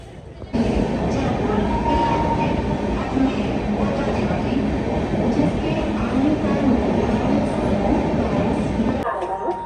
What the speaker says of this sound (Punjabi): ਲੁਧਿਆਣੇ ਰੇਲਵੇ ਸਟੇਸ਼ਨ ਤੇ ਆਪਾਂ ਪਹੁੰਚ ਗਏ ਆ